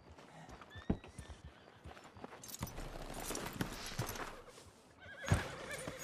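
Horses in the Red Dead Redemption 2 video game: a horse neighs sharply near the start and again near the end, between soft clip-clopping hooves and ambient town noise.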